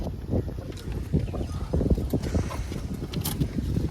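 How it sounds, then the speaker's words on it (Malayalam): Strong wind gusts on a forest route between Achankovil and Tenkasi, buffeting the microphone during a motorbike trip as a continuous, loud, low rumbling roar with a few sharper surges and no talk. "അമ്മാതിരി കാറ്റാണ് അടിക്കുന്നത്"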